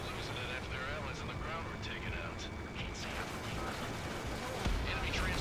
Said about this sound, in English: Using the A10 for air-to-air with the 30mm cannon.